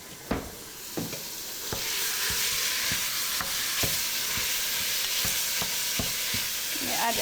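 Onions sizzle as they fry in a pan, a steady hiss that swells after being added, with repeated sharp utensil taps and scrapes at a fairly even pace.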